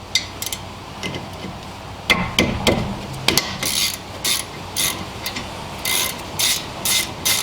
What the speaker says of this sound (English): just grab yourself a ratchet, 14mm, and loosen and remove those both.